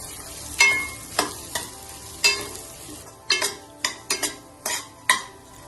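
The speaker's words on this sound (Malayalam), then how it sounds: "അവൽ ഇതുപോലെ വറുത്തെടുക്കണം" Flattened rice (aval) dry-roasting in a pan for aval payasam, a spatula scraping and stirring in repeated sharp strokes over a faint sizzle, close and clear with no voices.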